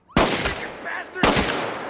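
Two sharp, loud gunshots ring out about a second apart in a crime film scene, each a sudden crack followed by a brief rattling decay, with no talking in between.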